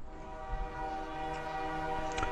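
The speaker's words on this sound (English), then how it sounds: "For a second, I thought that train was in the real world." A train rolls past in the video game Drug Dealer Simulator, its horn sounding a steady, sustained tone over continuous rumbling, loud and close throughout.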